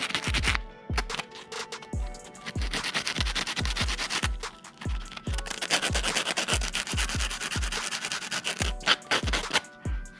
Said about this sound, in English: Take the little burrs off the end